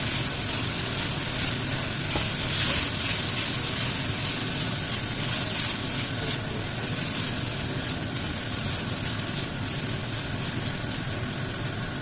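Pork sizzles and spatters while frying in a pan, a steady, dense hiss of hot oil holding constant and fairly close throughout.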